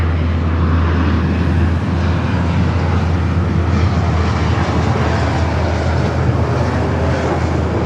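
A JetBlue jet taking off from a runway at LAX, a loud, steady engine roar with heavy low rumble and wind buffeting on the microphone, sustained throughout without voices.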